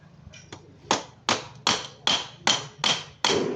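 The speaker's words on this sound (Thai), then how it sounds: "นี่ขนาดใช้ค้อนเคาะนะครับ เคาะแล้วเคาะอีก" Sharp hammer taps on the metal cylinder head cover of a Honda Scoopy-i scooter engine, about seven evenly spaced knocks, close and loud, over a low steady hum.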